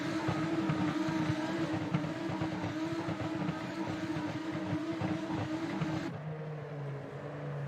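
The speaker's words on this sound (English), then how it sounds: "And we're underway for the first time with the Lamborghini Super Trofeo Cup, and there goes Ricky Freeman Jr. with a good launch out through turn 1" Lamborghini Super Trofeo race cars launch from a grid start at WeatherTech Raceway, a loud, dense blend of high-revving engines roaring together that drops to a lower, steadier drone as the pack pulls away.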